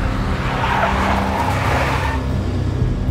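A big black Mercedes skids in the Max Payne video game, giving a steady, loud tire squeal and engine roar lasting throughout, with no talk.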